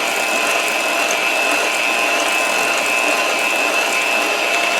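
An electric mixer blends cookie dough with orange zest, giving a steady, loud, continuous whirring drone with a high motor whine and no breaks.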